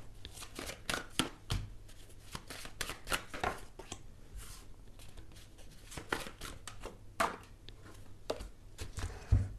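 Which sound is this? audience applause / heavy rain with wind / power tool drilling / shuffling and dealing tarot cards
shuffling and dealing tarot cards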